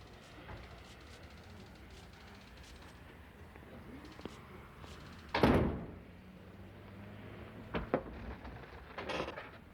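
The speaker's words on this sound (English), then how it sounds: "Close the door on your way out." An office door closes with a sharp thud midway, followed by a couple of softer knocks, against a quiet room with faint voices.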